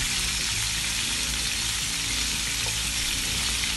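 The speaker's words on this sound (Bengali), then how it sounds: "আমার এদিকে মুরগিটা প্রায় ফ্রাই হয়ে গেছে, আমি একটু বেশি ফ্রাই করব" Chicken pieces frying in a pan until reddish and browned, a loud continuous sizzle and crackle of hot oil, close up and steady throughout.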